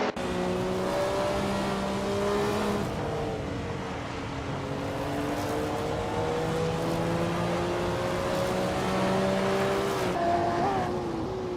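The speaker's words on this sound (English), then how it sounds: "driving a 1984 Ferrari 288 XGT" A 1984 Ferrari 288 GTO race car engine runs continuously at racing speed, with the engine note rising and falling as it shifts during a race. Other cars can be heard around it, and there is no talk.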